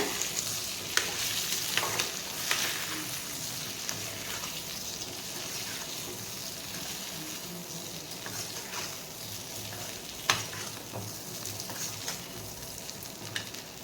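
A salted, spiced potato mixture being stirred in a pan with a spoon, producing a soft continuous scraping and sizzle-like hiss, quiet and close, with a few louder knocks of the spoon against the pan.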